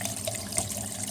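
Water flows steadily down an unclogged kitchen sink drain, a continuous close rushing and gurgling with no voices.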